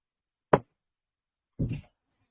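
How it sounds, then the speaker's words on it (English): A door closed indoors makes two distinct thuds, one sharp knock-like hit followed a second later by a duller, slightly longer bump, close and fairly loud against silence. "Let me just close this door"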